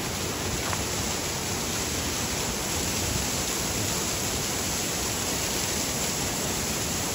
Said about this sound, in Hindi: ऊपर से झरना बह रहा है